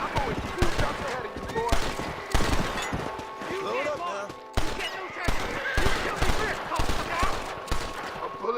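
A gunshot in Red Dead Redemption 2 amid a busy stretch of crackling gunfire, with repeated sharp cracks and rattling bursts spread across the clip alongside other game sounds.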